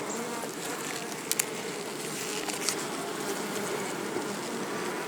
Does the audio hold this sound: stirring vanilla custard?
no